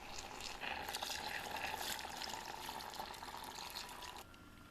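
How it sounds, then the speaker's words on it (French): Rice and coconut milk are poured into melted sugar in a saucepan, producing a close, bubbling liquid rush and sputter that eases off after about four seconds. "je vais rajouter le riz et le lait de coco en faisant gaffe aux éclaboussements"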